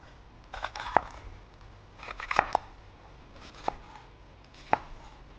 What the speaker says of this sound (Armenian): Սմբուկը կտրատեցի, հիմա կտրատելու եմ բողբեղը։